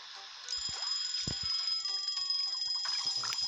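Electronic alarm ringing in Papa's Cluckeria To Go, a cooking video game: a steady bright high-pitched ring that starts abruptly and holds loud and continuous, with a few soft clicks and taps beneath it.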